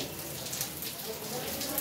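Continuous rainfall patters in a steady wash of hiss, fairly close, with no clear talk over it.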